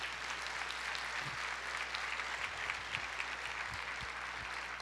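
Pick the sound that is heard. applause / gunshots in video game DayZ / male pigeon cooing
applause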